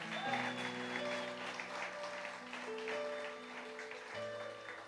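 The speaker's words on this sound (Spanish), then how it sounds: "¿Cuánto les dan un aplauso al Señor?" A church congregation applauds during a Spanish-language Sunday service, a moderate, steady wash of clapping under sustained keyboard or organ chords that shift pitch partway through.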